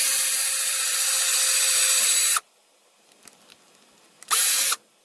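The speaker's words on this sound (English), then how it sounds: "You just need to drill a little hole" An electric drill whines as it bores a small hole in a furnace filter: one loud, steady burst of about two seconds, a few quiet clicks, then a second short burst.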